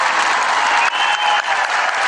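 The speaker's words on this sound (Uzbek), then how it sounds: "Bitta guldiroz qarsak chaling." A concert audience claps in a dense, steady round of applause, loud and continuous from start to finish.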